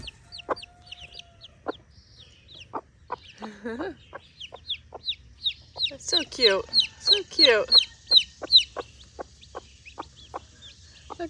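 Five little chicks cheep loudly outdoors in bright, repeated peeps while a hen clucks softly among them, with someone talking briefly over the birds.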